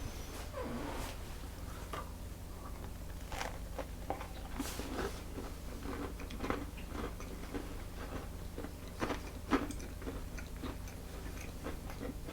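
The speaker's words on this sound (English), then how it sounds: "They're crispy on the outside, but they're soft inside" Crispy Nutella thumbprint cookie topped with chocolate chips being bitten and chewed close up, a series of soft crunches and crackles spread unevenly across several seconds.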